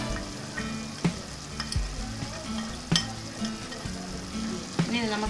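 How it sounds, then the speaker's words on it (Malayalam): Ground pepper, chilli, turmeric and coriander powders sizzle steadily in a pan for chicken pasta, with a spoon scraping and stirring through them at intervals. "ഇനി ഇത് നമുക്ക് നന്നായിട്ട് ഇളക്കി യോജിപ്പിക്കാം"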